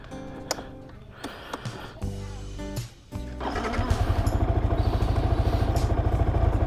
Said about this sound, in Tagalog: pag nagpapainit ako ng motor sa umaga, hanggang 3 lang ako